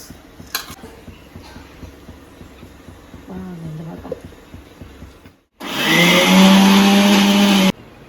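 A kitchen mixer grinder whirs loudly for about two seconds, grinding roasted coconut masala, after soft knocks and clatter from the ingredients being added, with a brief voice in the background.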